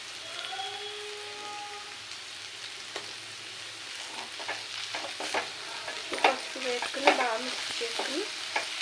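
Amaranth leaves frying in a pan, a steady sizzle with stirring clatter and scraping that grows busier and louder toward the end, heard close up with no talk.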